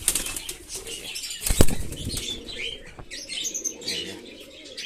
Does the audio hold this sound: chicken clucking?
no